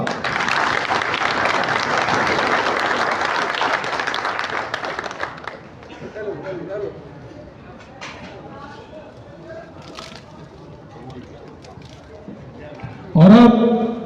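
Loud audience applause at a prize distribution ceremony rolls steadily for about five seconds, then fades into scattered murmurs and crowd noise, with a brief sharp burst near the end.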